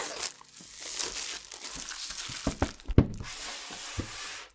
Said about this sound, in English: I can just open up the box by removing the plastic wrap